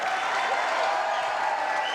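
A studio audience at a French television show applauds continuously, a dense, even wash of clapping with a faint crowd murmur.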